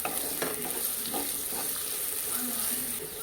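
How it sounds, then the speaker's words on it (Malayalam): Onions and green chillies sauté in a pan with a constant hissing sizzle, broken by occasional soft scrapes of a stirring spoon at close range. "ഉള്ളിയൊക്കെ നന്നായി ബ്രൗൺ കളർ ആവുന്നത് വരെ ഒന്ന് വഴറ്റി കൊടുക്കുക കേട്ടോ."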